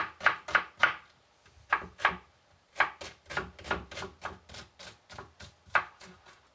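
A knife chops an onion into coarse cubes on a board for a vegetable provençale, giving crisp, close rhythmic thuds in quick bursts separated by short pauses, with no talking.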